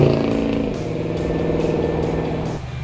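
A 440 cubic inch American muscle car accelerates hard, its V8 engine giving a loud, close, throaty roar with a strong harmonic growl that holds steady before easing off near the end.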